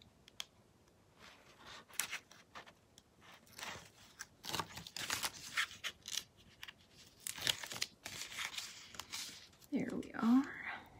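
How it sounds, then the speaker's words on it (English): Adhesive backing peels off a paper craft with soft tearing and crinkling rustles, quiet and close, interspersed with handling noises and mixed with low talking. "Then we're ready to start peeling off adhesive."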